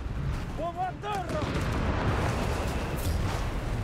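Howitzer artillery fire in Company of Heroes 3, a continuous low rumble of distant booms and blasts beneath the battle din, with short tonal game cues and bits of speech early on.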